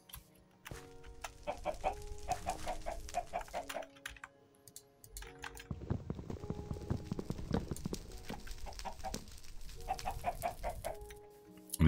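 Chickens cluck in the Minecraft Better Than Wolves game as a few short repeated clucks. They sit over steady clattering key clicks and block sounds throughout, with no talk.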